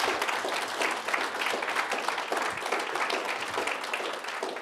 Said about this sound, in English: You are allowed to give applause.